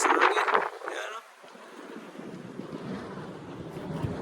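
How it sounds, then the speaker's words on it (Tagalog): Strong wind gusts across the Aoyama Mountain Plateau in Iga, Japan, roaring and buffeting the microphone; a brief voice is heard at the start before the wind settles into a steady rushing noise. "Ah, grabe kalakas ang hangin."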